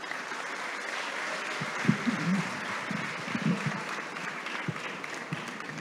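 An audience at a ceremony celebrating Giacomo Puccini's centennial claps steadily in a moderately distant, even patter, with a few sharper claps standing out.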